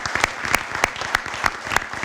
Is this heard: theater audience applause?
yes